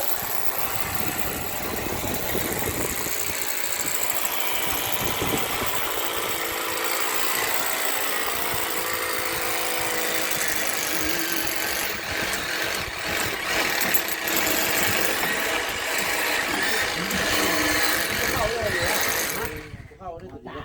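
A power drill bores into the structure of a house, giving a continuous loud motor whine and grinding that lasts nearly the whole stretch before cutting off at the end, with voices talking over it.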